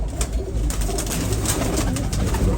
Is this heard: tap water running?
no